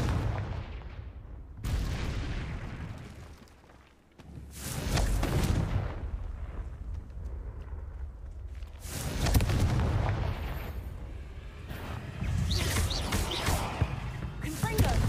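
Confringo spell blasts in Hogwarts Legacy, several loud booming explosions in bursts with rumbling decay, separated by quieter gaps, a voice talking between them.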